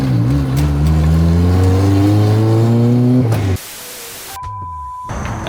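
A turbocharged Honda Civic EK hatch with a GSR engine runs close by, its revs climbing steadily before the engine cuts off abruptly, followed by quieter noise and faint tones.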